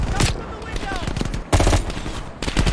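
Machine gun fire in the Call of Duty Cold War video game, loud rapid bursts broken by a brief lull and then resuming heavily, with a faint voice-like tone mixed in early.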